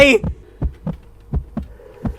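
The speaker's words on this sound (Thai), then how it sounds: "ผมได้ยินเสียงหัวใจ" Heartbeat in the horror game 7 Sins Lost in Labyrinth, soft thudding lub-dub pulses repeating at a steady, fairly quick rhythm, with a brief vocal sound at the start.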